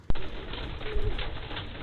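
Pigeons coo outdoors around a racing pigeon loft, soft and somewhat distant, with a sharp knock near the start and steady background noise running underneath.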